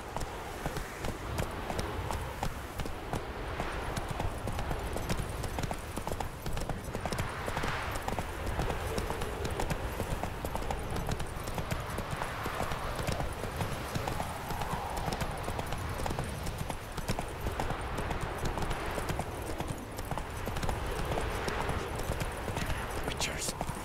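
A horse gallops in the video game The Witcher 3, rapid rhythmic hoofbeats pounding continuously and close amid a busy game soundscape, with voices talking over it.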